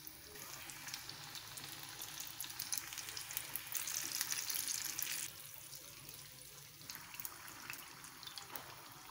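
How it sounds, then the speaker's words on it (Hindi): Fish deep frying in hot oil over a medium flame, a soft continuous sizzle and crackle at low level, briefly louder in the middle, with no talking. "आपने मीडियम फ्लेम पे ऑयल को गर्म करना है और मीडियम फ्लेम पर ही इन्हें फ्राई करना है"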